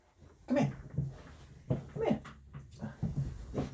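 A dog whimpers and yips indoors, several short whiny bursts spaced through nearly four seconds, fairly close with quiet gaps between.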